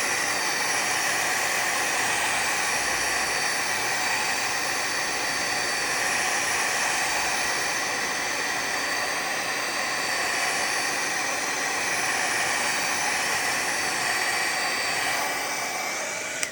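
A small electric dryer blows steadily to dry fresh watercolor paint on a tree card, giving an even, close, continuous rushing hiss that holds constant throughout with no talking.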